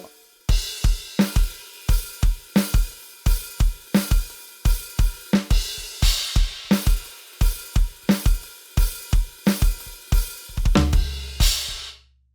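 Rock drum groove on a kit: bass drum and snare in a steady, tight backbeat, a crash cymbal splashing at the top of each bar, and a busier fill building to a final crash that rings out alone.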